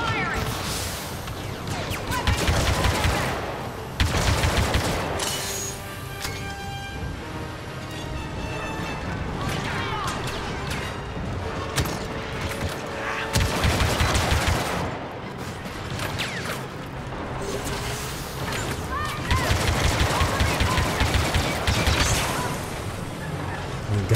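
Blaster gunfire and crashing impacts in Star Wars: Battlefront 2, repeated loud bursts recurring every few seconds over a continuous battle din with music-like tones, and voices speaking at times.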